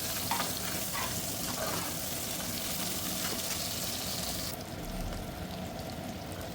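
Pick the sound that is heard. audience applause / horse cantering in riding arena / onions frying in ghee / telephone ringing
onions frying in ghee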